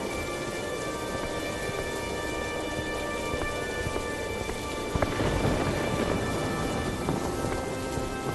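Heavy rain pours in a dense, unbroken hiss, with thunder rumbling underneath and a stronger surge of downpour midway through.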